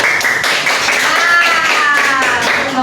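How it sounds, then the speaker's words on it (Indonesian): Classroom of students clapping their hands together, a close, dense patter of claps that runs throughout, with a faint voice in the background. "Oke, tepuk tangan dulu."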